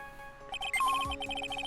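Metal detector beeps in the Ace Attorney: Trials and Tribulations video game: a quick run of bright electronic chirps, pulsing rapidly and rising in pitch, with no voices.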